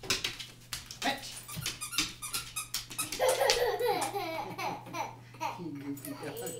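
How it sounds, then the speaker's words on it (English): Bentley the dog playing fetch indoors with a squeaky toy, giving short squeaks and excited yips close by, over a steady low hum, while a child and an adult talk and laugh throughout. "You goofy dog"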